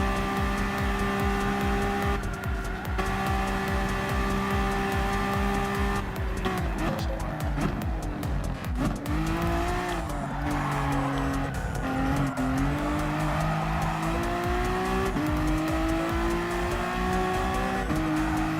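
Race cars in Gran Turismo Sport, among them a Honda NSX and an Audi Sport Quattro, roar with engine tones that rise and fall while tires squeal and skid repeatedly and loudly throughout.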